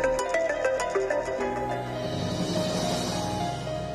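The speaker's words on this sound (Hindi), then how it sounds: "देशो भाभी दा फोन" A phone ringtone plays a bright, repeating electronic melody, loud and close, continuing without pause.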